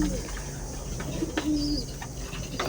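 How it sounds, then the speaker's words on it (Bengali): Pigeons coo softly in a home loft, a male among them, with low rolling calls over a steady background hiss and a few faint chirps nearby. "এটা হচ্ছে একটা নর কবুতর"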